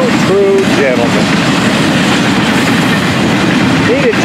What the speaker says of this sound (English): The 804, big Tommy up there running this train.